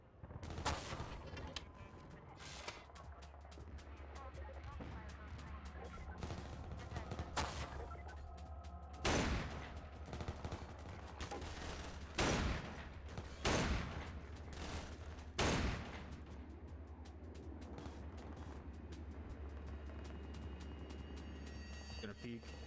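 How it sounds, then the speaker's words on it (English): Gunshots in a video game crack out in scattered single bursts and short volleys, some close and sharp, over a steady low rumble, with occasional talking. "I definitely heard gunshots from somewhere."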